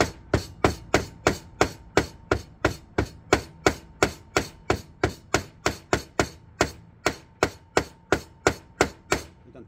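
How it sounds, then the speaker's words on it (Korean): A hammer strikes staple pins driven into a wooden car-audio speaker enclosure, about thirty sharp, evenly spaced taps at a steady quick rhythm, close and loud with no talking. "요것을 망치로 두드려야 됩니다."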